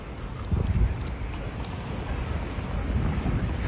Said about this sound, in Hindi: अच्छी अच्छी हवा चल रही है